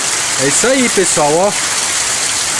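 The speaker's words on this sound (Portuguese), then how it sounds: "Agora a chuva veio." Heavy rain falling steadily on a rural farm property during a storm, a loud continuous hiss of rain filling the clip while someone speaks briefly over it.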